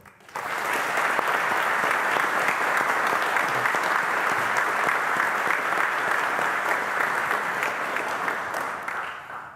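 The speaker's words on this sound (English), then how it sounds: "Please join me in another round of applause" An audience at a spring military commissioning ceremony at Dickinson College breaks into sustained applause, many hands clapping in a steady, full wash for several seconds before it fades.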